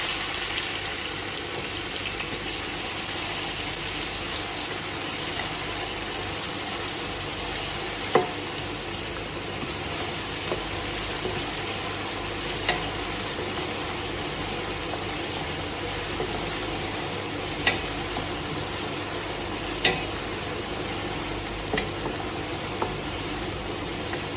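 Chopped onions sauté in a pan with fenugreek and cumin for an Arabic fish curry, a continuous moderate sizzle with occasional soft stirring clicks and no voices.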